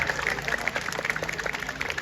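Steady crowd clapping from an audience at a Ram Leela stage show in Saharanpur, moderately loud and continuous throughout the short stretch.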